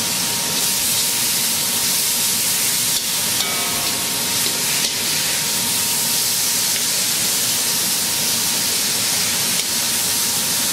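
Vegetables sizzle steadily in a very hot wok on a Capital Culinarian range, a dense continuous hiss of frying with faint stirring clatter, loud and close throughout with no talk.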